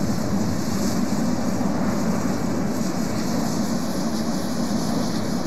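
An airplane taxis along a runway in the Roblox flight game Aeronautica. Its engine gives a steady, continuous hum with rumble underneath, holding at an even level throughout with no speech.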